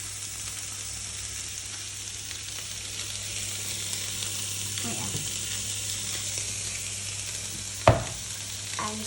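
Food stirred and frying in a pan for enchiladas, a steady soft sizzle with low hum throughout and a single sharp clack of the utensil near the end.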